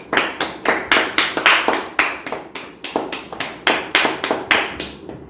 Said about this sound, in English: Let us give the Lord a big clap offering